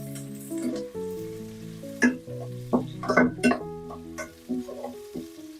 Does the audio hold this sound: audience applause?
no